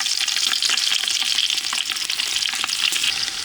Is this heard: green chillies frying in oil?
yes